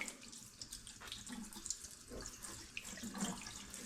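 Cider bottles rinsed under a running tap, steady splashing water pouring over glass at close range with small clinks, no talking.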